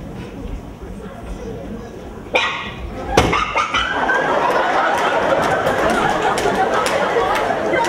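A dog barks sharply a couple of times, close by, then keeps yipping and whimpering amid background chatter.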